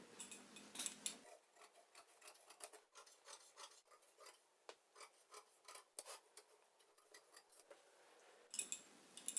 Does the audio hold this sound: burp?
no